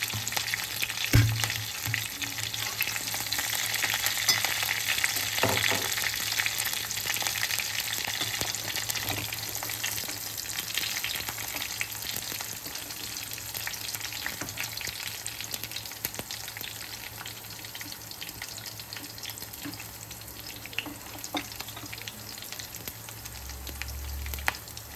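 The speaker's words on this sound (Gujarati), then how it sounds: "લીમડો ઉમેરી દઈશું મિત્રો." Curry leaves crackling in hot tempering oil for Gujarati Surti khaman, a dense continuous sizzle held close and steady throughout, with occasional faint clinks.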